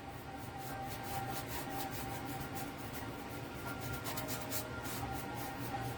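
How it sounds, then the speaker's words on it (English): Dry, scratchy scruffing of a paintbrush dragged over canvas, a continuous rasping rub with rhythmic strokes, close and steady, with no voices. "Once it starts making that scruffy noise, stop."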